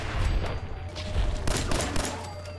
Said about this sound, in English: And the gunfire didn't draw their attention.